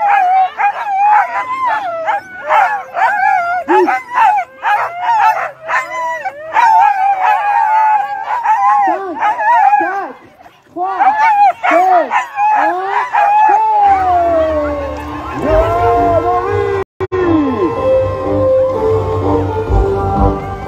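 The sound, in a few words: sled dogs howling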